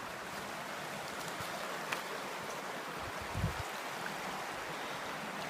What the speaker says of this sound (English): That creek right there.